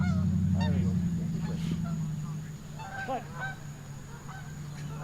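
Geese honking at a youth baseball game, repeated nasal calls in short bursts standing out over a steady low hum and background noise, with no talk.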